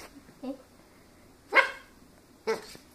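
A Bernese Mountain Dog puppy gives three short, sharp barks spaced about a second apart, close and fairly soft against a quiet room.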